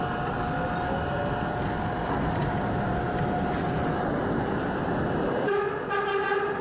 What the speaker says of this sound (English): It's pretty cool horn usage there for that D train.